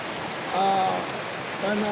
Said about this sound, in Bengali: এখানে প্রচণ্ড বৃষ্টি